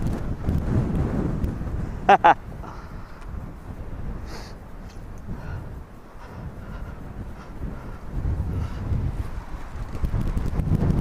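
Strong high wind buffets the microphone while a drone is flown outdoors, producing loud, gusty low rumbling that rises and falls throughout, with a couple of sharp knocks early on.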